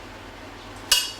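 A knife roughly slices a peeled, washed mushroom, landing as a single sharp tap on the board near the end after a quiet moment.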